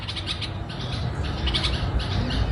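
Adult birds calling around their nest, where they stay guarding it and feeding their chicks; a steady run of repeated squawks and chirps, fairly close and continuous, with no talk.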